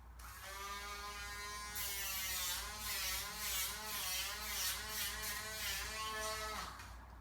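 A Dremel rotary grinder files down a dog's nail, its steady high-pitched motor whine wavering in pitch as the bit presses against the nail, loud and close, running continuously without talk.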